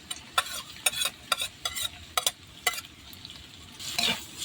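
Pork fried rice with egg being stir-fried in a pan: a steady sizzle with repeated sharp scrapes and clacks of a spatula tossing the rice, close and rhythmic, with no talking.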